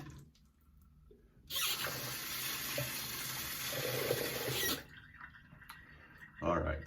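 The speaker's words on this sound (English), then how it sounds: "Let me rinse my hands off here." A tap runs steadily into a sink for about three seconds while hands are rinsed, a close, hissing wash of water that starts and stops abruptly, with quieter handling noises around it.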